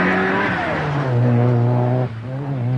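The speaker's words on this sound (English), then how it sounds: "Safely in control of Group N, the Caliber Sierra of Kenny McKinstry." A Group N Ford Sierra rally car races along a stage in the 1990 British Open Rally Championship, its engine droning loud and close with a steady, rising note and a brief dip as the driver lifts off near the end.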